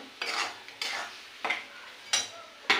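Chana masala spice stirred into a pan, given as five spaced scraping strokes of a spoon over a soft sizzle, close and clear, with no voices.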